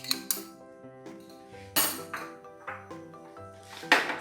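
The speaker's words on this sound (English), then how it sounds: "And stir well, and the last 2 tablespoons of ghee" Spoon scraping and clinking in a pan as Tirunelveli halwa is stirred with ghee, a series of separate metallic clinks and scrapes with ringing tones, close and fairly sharp, with no voices.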